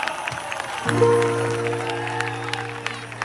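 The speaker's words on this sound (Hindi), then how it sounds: "अपने लिए ताली बजाओ एक बार" Audience applause at a crowded gathering forms a steady wash of scattered clapping over a sustained droning tone, moderately loud and fairly even throughout.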